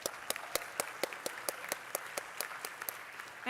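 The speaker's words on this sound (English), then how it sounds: "Let's give them one more round of applause." Audience at a high school capstone presentation event giving a round of applause, a modest, fairly quiet clapping with a few distinct nearby claps in a steady rhythm.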